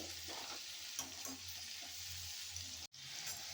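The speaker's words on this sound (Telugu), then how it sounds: "ఈవెన్గా ఫ్రై చేయాలి వీటిని ముక్క మెత్తబడే వరకు వేయించుకోవాలి" Amla gooseberry pieces frying in oil for a pickle, a continuous close sizzle with faint stirring scrapes and a brief dropout near the end.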